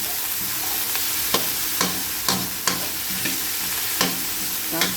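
Bottle gourd (opo) and tomato sauté in a pan with a steady sizzle, punctuated by regular sharp scrapes and knocks of a utensil stirring, close and alone with no talk.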